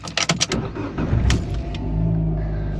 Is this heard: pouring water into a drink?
no